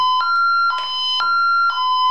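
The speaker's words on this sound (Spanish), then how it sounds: "Voy a hacer una alarma." A Honeywell home security alarm siren sounds loud and steady, a piercing electronic tone pulsing in four regular beeps about half a second apart, alone.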